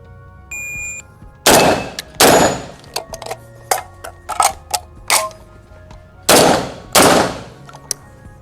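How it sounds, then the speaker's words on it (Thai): A Derya MK12 magazine-fed shotgun fires four loud, close blasts in two pairs, with metallic clicks and clacks of a magazine change and action handling between the shots. "เดี๋ยวผมจะทำการยิง 4 เป้านะครับ"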